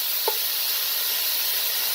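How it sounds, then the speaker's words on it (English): Onions dropped into a very hot pot with olive oil for a Southern white beans and shrimp dish give a steady, fairly loud hiss and sizzle, with a brief clink near the start. "Then we're going to add these onions in there. Just like that. My pot was really hot."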